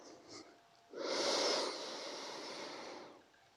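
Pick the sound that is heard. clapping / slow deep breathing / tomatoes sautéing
slow deep breathing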